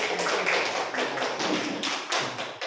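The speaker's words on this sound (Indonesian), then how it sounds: "Bagus sekali, kita kasih aplaus" Students in a classroom give a burst of applause, a dense, fairly close patter of clapping hands that lasts a few seconds and then tapers off.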